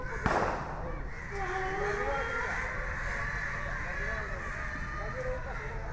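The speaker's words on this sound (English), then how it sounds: "Got quite a few fireworks going off, banging around, frightening the crows." Fireworks bang and crackle in the distance in Fort Cochin, a sharp burst near the start, over a steady wash of background noise, crowd sounds and faint crow calls.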